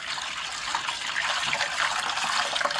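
Water poured into a pot of wheat grains, a steady splashing trickle throughout, close and fairly loud, with no talk.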